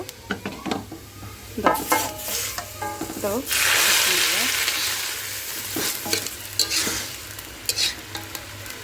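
Garlic browning in oil as bottle gourd greens are tossed in, loud close sizzling with repeated spatula scrapes against the pan and a surge of hiss midway, no voices.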